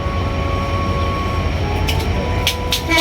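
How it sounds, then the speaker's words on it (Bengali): A train pulling out on a journey in Bangladesh, with a steady low rumble and hum of the carriages, faint tonal whines, and brief higher bursts near the end. "আমি একটু ভয় পাইছিলাম, ট্রেনটা ছাড়া দিল তাই।"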